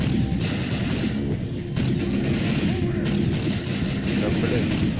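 Rapid gunfire from a weapon in the shooter game Defiance, bursts of shots over a loud, busy mix of game effects, with someone talking throughout.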